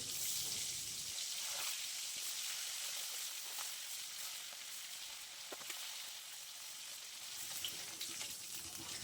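Rohu fish head frying in oil produces a continuous hissing sizzle with faint pops, heard close and steady at moderate volume.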